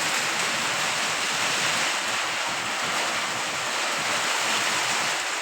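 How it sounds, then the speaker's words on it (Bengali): Heavy hailstorm with rain: a dense, steady roar of falling hail and rain, loud and continuous throughout with no pauses or talk. "প্রচুর পরিমাণে শিলা বৃষ্টি হইতেছে"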